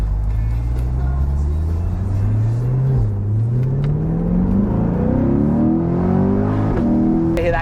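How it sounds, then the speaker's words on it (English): A 2021 Chevrolet Corvette Convertible engine revs upward in a long rising pull, rumbling close, then shifts and climbs again, with a faint exhaust crackle near the end. "You hear that crack in the exhaust there."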